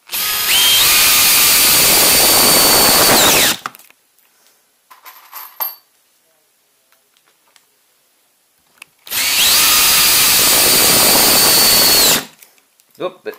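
A cordless power drill drives screws into countersunk wood in two loud, close bursts of several seconds each, high whirring and grinding, separated by a quiet gap with faint handling clicks.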